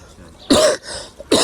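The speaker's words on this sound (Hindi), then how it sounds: "हमें ये खांसी नहीं जान छोड़ रही" Two harsh, loud coughs close up, separated by a brief raspy breath, with a small throaty catch between them.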